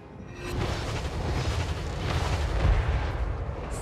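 Dense, rumbling gunfire and booming blasts from a musket or handgun volley in the Total War Warhammer 3 strategy game, sustained at a loud level for several seconds with no clear gaps between shots.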